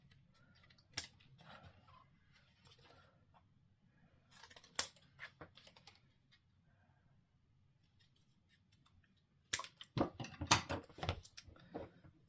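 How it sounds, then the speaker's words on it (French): Scissors snipping paper and card to bevel corners for a handmade scrapbook album, with a few scattered cuts early on and a quicker close cluster near the end, over quiet room noise and light handling. "On coupe, on biseaute dans les angles."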